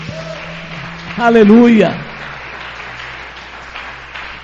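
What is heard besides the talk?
congregation applause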